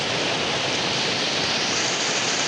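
Heavy, non-stop rain in the Konkan countryside pours as a dense, steady broadband roar, constant and loud with no pauses and no talk.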